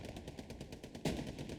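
Machine gun fire in the video game Hell Let Loose. Rapid, regular bursts repeat steadily and stay moderately distant, with one louder blast near the end.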